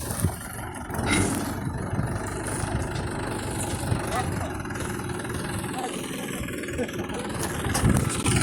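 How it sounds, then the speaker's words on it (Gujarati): A tractor engine runs at a steady idle, a low continuous rumble that holds throughout at moderate loudness with some background noise. "હાલો ભાઈ ટ્રેક્ટર મંડાઈ ગયું"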